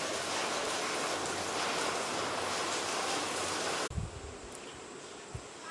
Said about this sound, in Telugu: అంటే ఇక్కడ అంతా వాటర్ ఫాల్